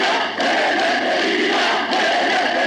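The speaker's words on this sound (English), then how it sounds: "Then they chant Eleftheria, Demokratia, freedom, democracy." A large funeral crowd for the poet Seferis chanting Eleftheria, Demokratia: a dense, loud roar of many voices shouting together, sustained and slightly distant with brief dips between chants.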